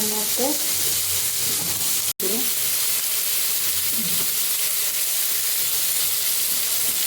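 A vegetarian dish sizzling loudly in a pan as it is stirred, with a constant hissing fry and occasional scraping stir sounds, close up, with faint voice fragments near the start.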